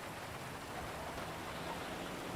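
Steady rain pours down in a dense, even hiss that stays constant throughout, fairly quiet and with no other sounds standing out.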